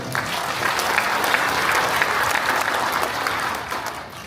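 A crowd at a county governor's New Year town visit in Jeongsan-myeon, Cheongyang, breaks into loud, vigorous applause, dense clapping holding steady throughout before tapering slightly at the end.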